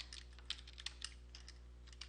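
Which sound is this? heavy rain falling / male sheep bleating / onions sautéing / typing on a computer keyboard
typing on a computer keyboard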